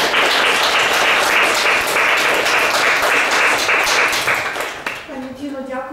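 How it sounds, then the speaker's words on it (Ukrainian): An audience in a hall bursts into loud, sustained applause, dense clapping that holds steady for several seconds and then fades, with a voice starting to speak over the last of it. "я страшенно чекала тих оплесків"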